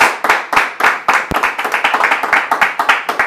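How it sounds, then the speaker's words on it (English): Applause for Chris from an audience at a studio show: a small group clapping in a dense, rapid patter of sharp individual claps, close and fairly loud, with no talking over it. "everyone a round of applause for Chris"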